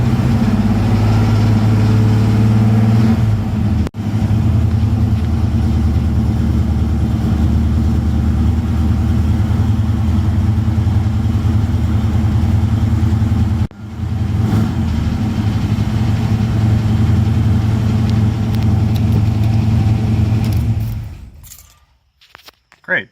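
A 1976 Chevrolet Nova V8 with freshly rewired three-wire alternator idles steadily and loud close by for about twenty seconds, a low rumbling drone with a couple of brief dips, then cuts off abruptly near the end.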